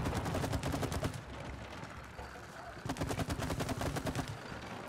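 Rapid bursts of gunfire in the video game It Takes Two, two loud stretches of fast repeating shots separated by a quieter gap with low rumbling in between.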